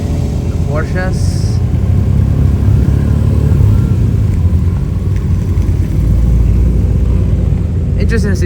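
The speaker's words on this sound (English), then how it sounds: "There's a car track day going on." Engines drone continuously from cars passing at a track day, including Porsches and Corvettes, a loud rumbling wash of traffic noise with faint whines rising over it at moments.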